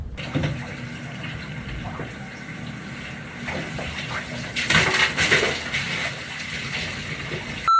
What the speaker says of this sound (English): I'm gonna get him with some water and ice